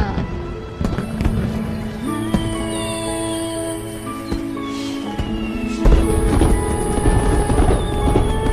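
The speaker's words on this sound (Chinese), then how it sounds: "好漂亮，居然有烟花。" Fireworks going off at night: scattered thuds and pops over a continuous rumbling background, with whistling tones drifting through and a short stretch of talking.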